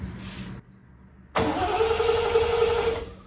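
A Triumph TR6 engine cranks without catching: a short burst of starter noise, a pause, then a longer sustained whirring crank that runs on steadily and loudly up close.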